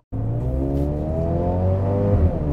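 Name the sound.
Mercedes-AMG GLB 35 engine and AMG exhaust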